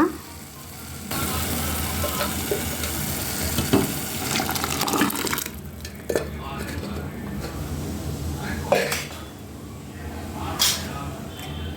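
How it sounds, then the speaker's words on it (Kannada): Cooked lentils are tipped into sizzling masala in a pan for prawn sambar, giving a steady frying hiss broken by sharper splashes and stirring knocks, with a voice speaking over it. "ಇದಕ್ಕೆ ನಾವು ಬೇಯಿಸ್ಕೊಂಡಿರೋ ಬೇಳೆ ಹಾಕೊಳ್ಳೋಣ"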